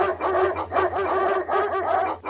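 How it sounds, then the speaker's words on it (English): A pack of many dogs barking and yelping together in a quiet mountain village, a dense, continuous chorus of overlapping barks close by that swells and dips without pause. "That's a lot of dogs."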